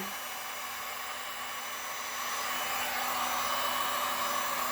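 A heat gun blasts hot air over a resin painting, a steady broadband whoosh with a faint constant hum, growing slightly louder partway through and running alone without any talk.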